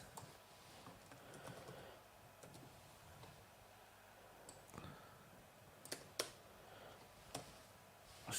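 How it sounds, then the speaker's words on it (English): Computer keyboard typing by a football commentator during a live Europa Conference League match stream, soft scattered key clicks with a few sharper taps, close and fairly quiet over a low room hum. "He's a busy man there, typing away."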